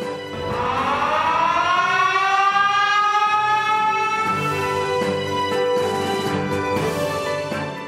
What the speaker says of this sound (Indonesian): Peresmian pabrik ini kemudian ditandai dengan penekanan tombol sirine oleh Presiden Joko Widodo.